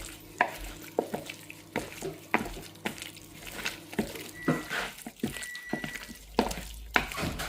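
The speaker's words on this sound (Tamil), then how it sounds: "இப்போது சிக்கன் லாலிபாப்பை இதில் சேர்த்துக்கணும் இதை நல்லா மிக்ஸ் பண்ணிக்கணும்" Chicken lollipop pieces are mixed by hand into a marinade, making repeated soft, wet squelches and light clatters about every second, close up, over a faint background hum.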